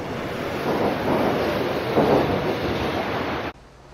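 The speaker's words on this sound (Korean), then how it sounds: "공모전 준비에 열중하던 지웅 씨가 밤기차에 올랐습니다" A night train runs on rails in Korea, a steady loud broadband rush and rumble of the moving carriage that cuts abruptly to a quieter interior hum near the end.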